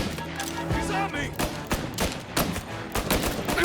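A rapid burst of several sharp gunshots in quick succession in the video game Mafia: Definitive Edition, close and loud, with shouting voices mixed in.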